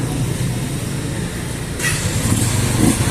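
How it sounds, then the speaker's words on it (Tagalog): A Rusi TC 125 motorcycle's electric starter spins the engine, an ongoing mechanical churn that grows louder and brighter partway through and runs on steadily, with no voice heard. "Subukan natin yung starter."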